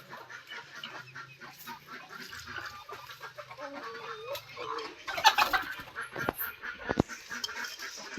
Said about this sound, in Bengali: এই দেখুন আমাদের মুরগিগুলা সব খাওয়া দাওয়ায় ব্যস্ত আছে।